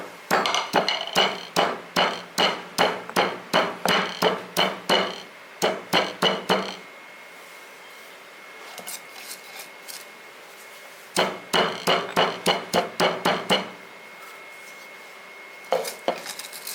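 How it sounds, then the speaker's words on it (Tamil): Cardamom and rock sugar are pounded in a mortar, sharp rhythmic thuds in fast bursts of about a dozen strikes each, close and loud, with quiet gaps between bursts and no talking. "இப்போ நம்ம கல்கண்டு சாதத்துக்கு ஏலக்காயை உரலில் போட்டு இடிச்சிக்க போகிறோம்."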